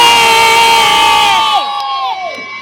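A crowd of children at a school annual day shouts and cheers loudly and close, a dense sustained roar of voices with rising whoops that breaks off abruptly partway through, leaving a few trailing cries.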